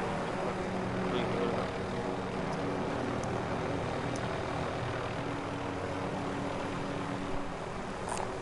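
Steady engine drone of an aircraft flying in a PS4 video game, a continuous propeller-like hum held at an even level, with a few faint clicks and bleeps over it and no clear speech.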